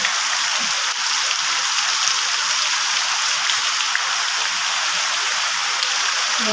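Heavy rain pours steadily in the dark, a dense, constant hiss at close range with no gaps or voices.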